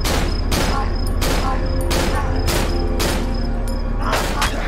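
Gunfire in the horror video game Cry of Fear, a rapid series of loud, evenly spaced shots about every half second, with a voice talking underneath.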